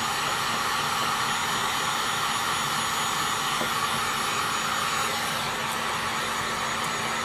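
A heat gun heating a foam RC model plane wing for repair, a steady, close hissing blower whoosh that holds evenly throughout with no talk.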